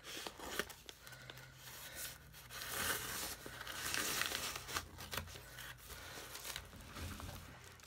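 Mail package wrapping being torn and crinkled open by hand, a steady run of rustling, ripping and crumpling close to the microphone for several seconds with no talk.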